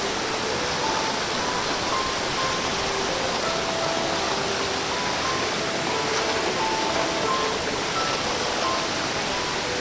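Manikmoyo waterfall pours in a steady, dense rush of clear, cold water, loud and constant without a break.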